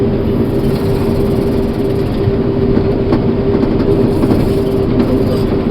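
Loud, continuous rumbling whir of a combine harvester's threshing drum turning while cutting silage, a steady hum with constant grinding texture throughout.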